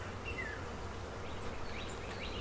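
Honey bees crowd a hive frame during a spring colony inspection, making a faint, steady, low hum across the whole moment with a few thin chirps above it and no talking.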